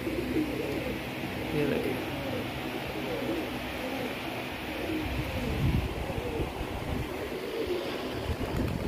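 A flock of pigeons coos softly amid a constant wash of fluttering and ambient noise, faint and steady throughout, with someone speaking briefly.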